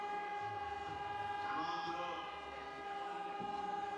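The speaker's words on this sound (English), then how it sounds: "A siren in the background, if you can hear it." During a women's bouldering semi-final in Brixen, a steady distant siren-like tone holds throughout, faint behind a low hum of venue noise.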